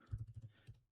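Quick, quiet keystrokes on a computer keyboard, about half a dozen close taps in a short burst.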